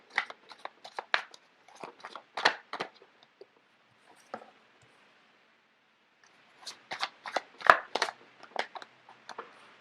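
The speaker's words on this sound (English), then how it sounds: "So let me just get the cards out first of all." Tarot cards handled and shuffled at close range, with two busy bursts of crisp snaps, riffles and taps that are separated by a quieter stretch of soft shuffling.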